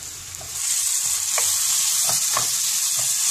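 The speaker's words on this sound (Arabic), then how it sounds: "دابا غندير الزيت هو الاول، ندير البصله هنا تقريبا واحد جوج بصلات كبار" Chopped onions in hot oil give a bright, steady sizzle, close and loud, with a few scraping stirs breaking through.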